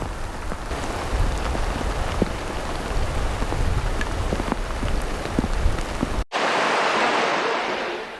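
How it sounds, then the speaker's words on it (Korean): Steady rain falls on wide rice paddies in the countryside, a dense even hiss with scattered close drips, then a brief cut to a louder, smoother wash of rainfall. "이런 마음고생을 한순간에 씻어내리는 단비 중의 단비입니다."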